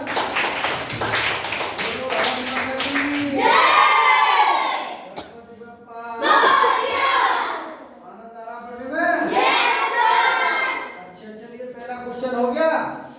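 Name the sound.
children clapping loudly in a classroom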